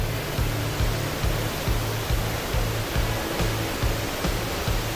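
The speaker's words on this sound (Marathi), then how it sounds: "जो मोठा धबधबा तुम्ही बघितला तो इथून पडतो खाली आणि हा एक छोटा धबधबा" A small waterfall at Thoseghar near Satara gives a loud, steady roar of rushing water close by, a dense unbroken wash of sound with no voices.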